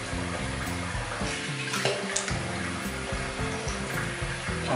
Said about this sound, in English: I'll just give it a quick rinse.